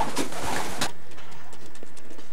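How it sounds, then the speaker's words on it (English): A blue racing pigeon at a racer's loft gives a burst of soft cooing and fluttery calls at close range, which stops abruptly and leaves faint background sounds. "It's a nice blue pigeon."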